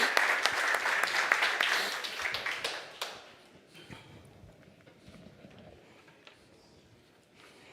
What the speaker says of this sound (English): Please give a round of applause again to Georges.